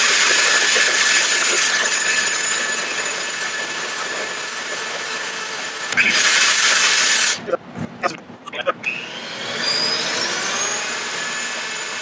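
A mixer whirring steadily as it churns cream into butter, a loud continuous motor hum for about seven seconds, then stopping and starting in short bursts before a softer run resumes.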